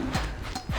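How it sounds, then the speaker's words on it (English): Yak cows being herded into a corral in the Jak and Daxter video game, heard as two hoof-like clip-clop steps with low grunting calls, close and moderately loud over a steady game background. "I've been trying to get those ornery yak cows back into the pen all day."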